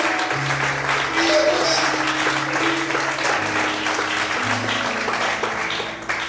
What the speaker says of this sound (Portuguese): Quando podem aplaudir, diga: